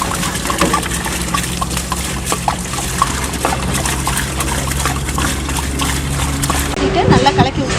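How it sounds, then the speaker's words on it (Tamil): About 15 litres of water poured into a large pot of mutton biryani with 10 kg of rice, giving a steady splashing, sloshing rush over a constant low burner or engine hum. Voices can be heard in the background. "10 கிலோ அரிசிக்கு 15 லிட்டர் தண்ணி ஊற்ற போகிறோம்"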